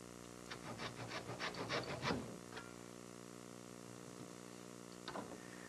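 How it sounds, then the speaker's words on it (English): Handsaw cutting clamped wood during small boat building, a series of quick rasping strokes over about two seconds, then a pause and a brief final stroke; fairly quiet and close, no talk. "I'm going to clamp it and make another cut"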